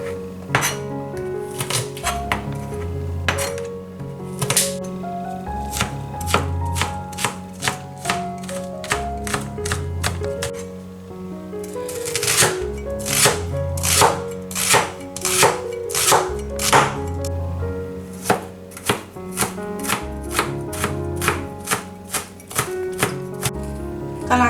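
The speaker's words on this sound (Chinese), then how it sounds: "葱蒜切末。" A kitchen knife chops scallions and garlic finely on a cutting board, a long run of quick, crisp, close-up strikes in steady bursts, with occasional clinks and pauses between.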